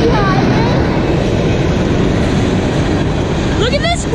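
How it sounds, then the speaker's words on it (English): CSX manifest freight train rolling past on the rails, a loud, steady rumble and roar of wheels with faint squeals, heard close and continuous. "Troy, do you think that second train that we heard, do you think that's another train that's behind"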